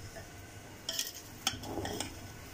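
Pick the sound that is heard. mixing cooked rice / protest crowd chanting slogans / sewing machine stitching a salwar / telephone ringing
mixing cooked rice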